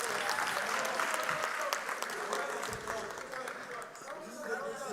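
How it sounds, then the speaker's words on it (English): Audience applause at a university town hall on the 2024 national elections, a steady broadband clatter of many hands lasting throughout, with voices and chatter mixed in and the clapping thinning slightly near the end. "I think we deserve a round of applause for that."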